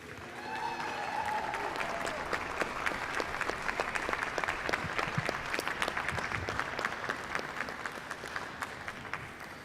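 An audience applauds the reveal of the new Aston Martin DB10 at an event: dense, steady clapping from many hands that fills the room, with a few voices faint beneath it.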